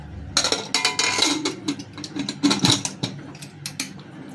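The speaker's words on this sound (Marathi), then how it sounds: "हा मी घेतला 3 लिटरचा कुकर" A 3-litre pressure cooker is handled in a home kitchen, with a close, busy run of metallic clanks, knocks and scrapes coming in irregular bursts.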